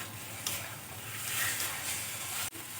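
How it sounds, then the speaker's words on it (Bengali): Potatoes and spices sauté in a pan for an egg omelet curry, giving a steady close sizzle with a few stirring scrapes, then a sudden brief drop in the sound near the end. "আমার কিন্তু আলু দিয়েও খুব ভালো করে মশলা কষানো হয়ে গেছে"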